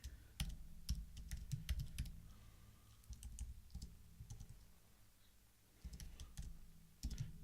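Keys clatter on a computer keyboard as code is typed, coming in uneven bursts of close, crisp clicks with short pauses in between, and nobody speaks.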